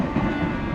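A train rushing along in the Cookie Run Kingdom game, a short burst of rumbling, whooshing noise at moderate volume, with no voices.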